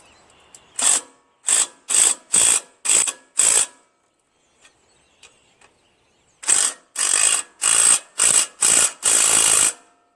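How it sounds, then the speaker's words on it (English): Ratchet torquing down muffler bolts on a Murray 14.5 hp 42-inch lawn tractor, two close bursts of sharp rhythmic clicking strokes, about six each, separated by a pause with faint handling noise. "Managed to get the gasket and bolts all lined up. I'm just slowly torquing these down."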